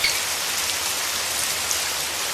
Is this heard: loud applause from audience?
no